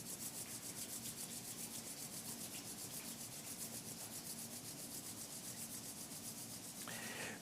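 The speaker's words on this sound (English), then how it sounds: "Rub your palms together." Palms rub together at the close of a meditation, giving a continuous, rhythmic, close dry swishing friction that runs steadily for several seconds.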